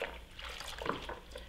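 A cloth dipped into a bucket of soapy water made with a squirt of cleaner for washing wood floors, giving a close, steady wash of sloshing, bubbling and dribbling liquid with no talk.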